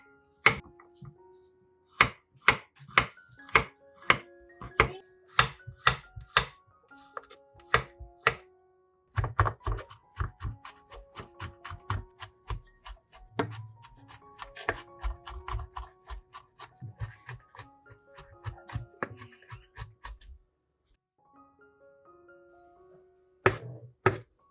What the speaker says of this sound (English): Use a knife to chop it finely or put it in a blender to puree it